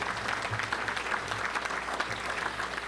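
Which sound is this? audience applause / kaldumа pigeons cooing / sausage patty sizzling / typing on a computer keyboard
audience applause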